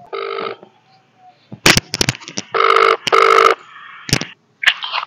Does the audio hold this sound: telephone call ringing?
yes